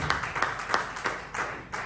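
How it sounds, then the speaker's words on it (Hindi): Seminar audience clapping, a short round of applause with distinct sharp claps standing out over a softer spread of hands, moderately loud and fairly close, no talk over it. "दिशान जी के लिए एक बार जोरदार तालियां।"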